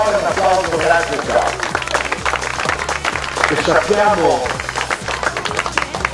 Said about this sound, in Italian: Un applauso a questo podio delle quattro ruote motrici.